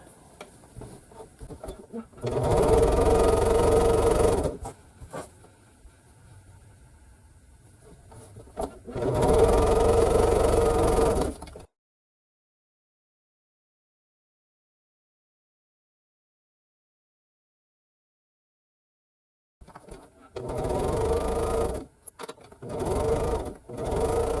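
A sewing machine stitches quilt pieces in loud, steady bursts with silence between them, then runs again in shorter bursts; no talking is heard.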